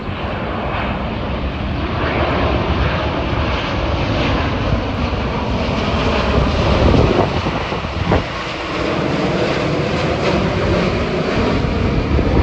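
A Korean Air Cargo Boeing 777 arriving from Anchorage, Alaska roars loud and steady overhead, its broad jet engine noise sustained for the whole stretch.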